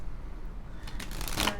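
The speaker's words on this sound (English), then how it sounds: "One more shuffle." Tarot cards shuffled by hand during a love reading, a soft papery riffle that swells into a brisk, close burst of rapid card flutter near the end.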